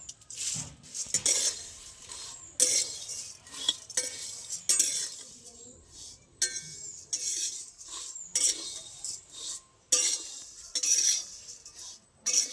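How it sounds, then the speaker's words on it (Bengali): Flattened rice dry-roasting in a wok, stirred continuously with a metal spatula: repeated scraping and clinking strokes in uneven bursts, close and fairly quiet, with no talking. "এইভাবে আমি নেড়ে নেড়ে ভালো করে ভেজে নেব"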